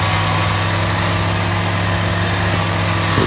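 An RG50 stump grinder working near a timber fence gives a steady, loud engine drone with a constant low hum throughout, alone and close by.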